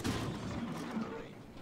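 Heavy tank cannon fire in the World of Tanks game, a Bretagne Panther tier VI premium tank, with booming blasts and rumbling echoes under a voice.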